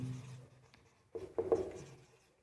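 Marker or chalk writing on a board during a chemistry lecture, with a few short scratchy strokes rubbing against the surface, close and moderately loud, then tapering off into quiet.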